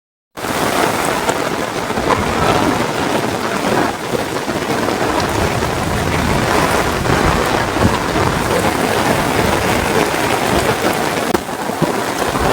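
Steady heavy rain pours down continuously, a dense hiss of drops close by with no voices over it.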